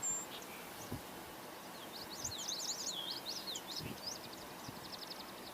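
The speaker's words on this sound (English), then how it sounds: "So we are hearing common yellowthroat and song sparrow." Small birds, a common yellowthroat and a song sparrow, sing faint, rapid chirping phrases in the distance over quiet outdoor ambience.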